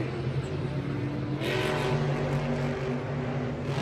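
Monster trucks Megalodon and Shaker racing flat out through the final turn at a Monster Jam event in St. Louis, a loud continuous engine roar swelling midway, with an announcer talking over it.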